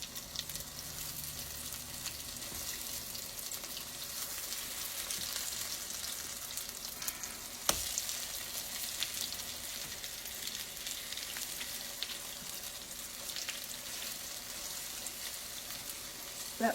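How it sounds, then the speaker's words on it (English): Steady, quiet sizzling of potato cakes frying slowly in a pan, a continuous crackle with one small clink midway and no talking. "I'm frying them slow because I don't want them to get so brown so quick"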